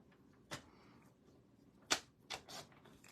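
Cardstock paper being cut with scissors for card making: a few crisp, isolated snips spaced unevenly across a quiet background.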